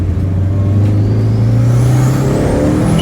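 A car engine revs hard with turbo flutter, a loud, steady droning tone that holds close and strong, with a faint rising whine above it for about three seconds.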